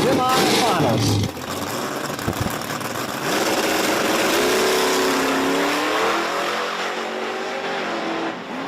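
A Fox Body Mustang hatchback and another car launch in a drag-racing semifinal at Virginia Motorsports Park. Loud, close engines roar and rev, then a sustained high whine fades as they pull away, with crowd noise and commentary underneath.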